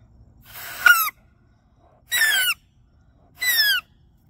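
A blade of grass stretched between the thumbs gives three loud, piercing whistles, each a short wavering squeal of roughly half a second, evenly spaced and close up, with nothing else heard.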